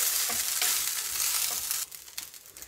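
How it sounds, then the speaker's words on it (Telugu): Rice and coconut for kobbarannam being mixed in a pan, a loud hissing sizzle with soft scraping stirs that drops off sharply partway through, leaving quieter rustling and a few light knocks. "ఇలా వేసేసి ఒకసారి బాగా మిక్స్ చేసేసుకోండి."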